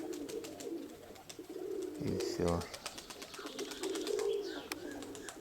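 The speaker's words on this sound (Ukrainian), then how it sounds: "це голубеня, що сьогодні забрав" A young pigeon coos softly among pigeons, with low, repeated murmuring coos heard through background noise. Someone speaks briefly partway through.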